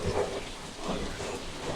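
Steady rain falls on a stormy tropical-storm morning, a continuous broad hiss with no talk over it.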